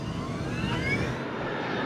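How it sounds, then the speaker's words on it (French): Malaysia Airlines flight MH370, an airliner, accelerating down the runway for takeoff at night, a steady broad engine roar with a rising whine held throughout at moderate level, no voices. "le vol MH370 reçoit l'autorisation de décoller"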